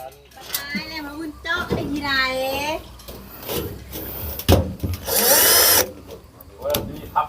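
Cordless power driver sinking screws into steel, bursts of whirring and grinding amid voices talking nearby, with a louder, harsher broadband stretch near the end.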